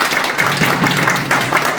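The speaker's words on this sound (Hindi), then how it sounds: "एक जोरदार ताली आप लोग।" Audience at a wellness seminar claps steadily in a brief burst of dense applause, moderately loud and even throughout.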